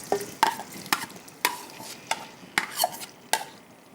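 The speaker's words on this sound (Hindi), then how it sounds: "इसको अब अच्छी तरह से थोड़ा सा हमें चम्मच की मदद से हिला लेना है।" A spoon stirs chopped onions browning in half a cup of oil, giving regular scraping strokes against the pan about twice a second over a soft background sizzle, close and clear.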